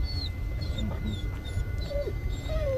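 A dog in the horror video game Blair Witch gives several high, thin whimpers and whines over a steady low ambient rumble, with no voices.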